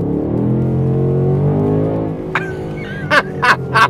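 V8 car engine in track mode with manual shifting, held in second gear: a loud, droning tone rising in pitch for about two seconds, then a few sharp, short bursts near the end.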